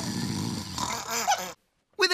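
A voice imitates snoring as a second contrasting impression: a continuous growling, honking drone that ends abruptly in silence, followed by one short loud snort.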